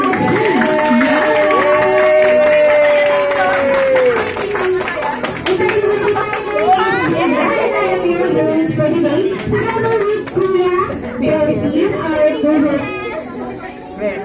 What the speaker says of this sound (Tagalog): this time the celebration with the biggest round of applause, please